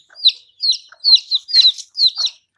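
A hen gives a quick series of about six sharp, high clucks in an uneven rhythm, close and clear with no other sounds.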